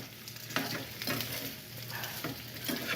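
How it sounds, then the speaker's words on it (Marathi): Oil crackles and sizzles steadily in a pan as spices are tempered for a Maharashtrian boiled-potato dish, with occasional stirring scrapes, close by and with no talking. "मस्त फोडणीचा सुगंध येत आहे, अगदी छान फोडणी बसलेली आहे"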